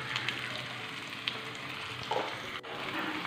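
Onion, curry leaves and asafoetida sauté in a pan for adai batter, a continuous low sizzle with a few faint clicks and scrapes as the spoon moves through them.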